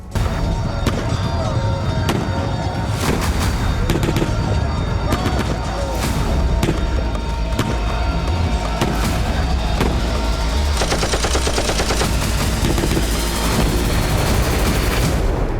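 Ukrainian JDAM-guided bomb strikes on a Russian army position in Tyotkino, Kursk, with heavy combat around it: relentless, loud, rapid gunfire mixed with deep booms and crashes, continuing without a break.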